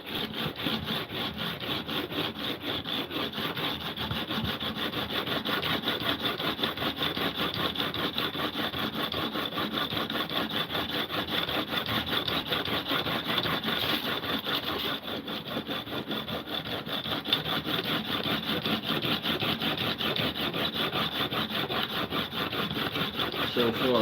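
A Japanese plane blade rubbed back and forth on a sharpening stone, a continuous rapid rasping scrape, close and steady throughout with no pauses.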